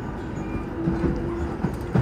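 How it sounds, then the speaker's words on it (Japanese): Steady low rumble of a Chuo Line commuter express train departing Hachioji and running, with a faint tonal whine and occasional soft knocks from the wheels. "電車は八王子を発車しました"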